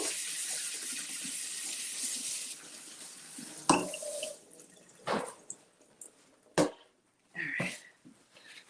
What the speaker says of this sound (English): All right, so let's get these rinsed off.